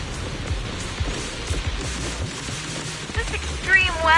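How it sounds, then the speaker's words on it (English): Steady rain and gusting wind in the Zenless Zone Zero video game, a broad continuous hiss with low rumbling swells, a voice rising briefly near the end. "The wind and rain are picking up."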